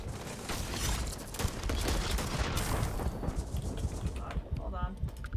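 Starfield combat plays out with a grenade blast and rapid gunfire, a dense, continuous barrage of booms and shots, with a voice talking over the fighting.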